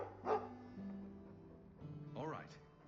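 A dog in the video game Dragon Age II gives a couple of short, faint barks with quiet game sounds between them, while a person talks.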